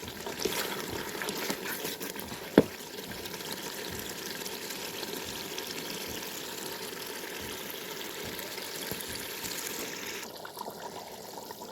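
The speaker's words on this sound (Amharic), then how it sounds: "እንግዲህ ውሃ ጠብ እያደረኩኝ አበስለዋለሁ በደንብ ማለት መቁሎውን" Water dribbled onto meat roasting in a pan, heard as a steady broad sizzle and trickle that runs continuously with one sharp tick partway through, moderately close and with no talk.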